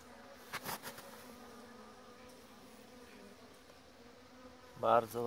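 Honey bees flying around outdoor hives in an apiary on a cold February day with snow, a faint continuous buzzing hum with a few louder passes near the end as bees fly close.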